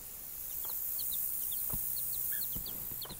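A bantam hen with three small chicks, their high thin peeping repeating in quick chirps over faint background noise, with a few soft low clucks.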